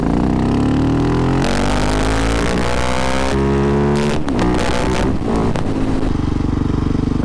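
A 701 motorcycle is ridden hard, its engine revving loud and close through rising gear pulls with brief drops at shifts, heavy wind rush underneath.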